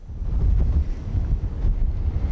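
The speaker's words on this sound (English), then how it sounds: "And Rachel, it looks extremely windy where you are." Strong gusting wind from Storm Floris buffets the microphone on the coast at Peterhead, northeast Scotland, a loud continuous low roar with surging gusts throughout and no speech.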